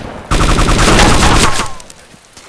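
A fast burst of video game machine-gun fire rattles loud and close for over a second, its rapid repeating shots fading into a short tail.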